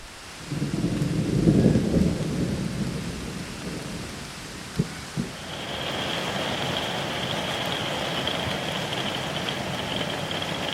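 Rain hisses steadily on a trail outdoors, preceded by a low rolling rumble of thunder near the start and a couple of sharp knocks midway.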